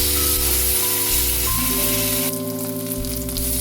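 Ginger, garlic and green chili paste sizzles loudly in hot oil, a close and steady frying hiss with a sharp burst of spitting partway through, under a sustained background hum.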